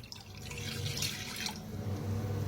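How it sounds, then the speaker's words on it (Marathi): Water pours from a glass into a kadai on the stove to start sugar syrup for gulab jamun: a steady close splashing flow lasting a couple of seconds, heard alone. "पाणी ओतूया"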